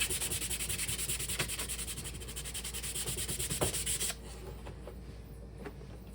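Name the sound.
sanding laser-cut wood to remove soot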